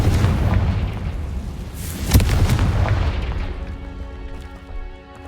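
Confringo blasting spell in Hogwarts Legacy, a deep rumbling boom with a sharp crack in the middle that slowly decays into a ringing, tonal tail.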